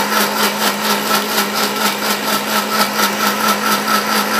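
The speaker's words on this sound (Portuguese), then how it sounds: "Eu vou estar batendo no liquidificador" A kitchen blender purees passion fruit pulp, its motor whirring in a loud, steady, even drone from start to finish with no voices.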